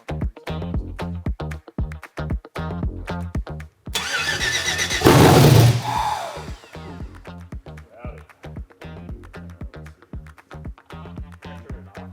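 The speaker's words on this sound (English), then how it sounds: "Then the HP Tuner guys can load in a base calibration and we'll fire this engine up." A rebuilt 5.3-litre twin-turbo LS V8 engine cranks with rapid rhythmic starter pulses, roars briefly to life with a loud burst, then dies back into steady cranking.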